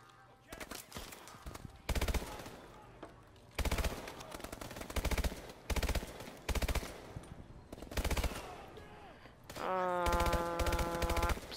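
Video game gunfire, loud bursts of rapid automatic shots in repeated clusters separated by short gaps, ending with a tonal electronic whine layered over the final burst.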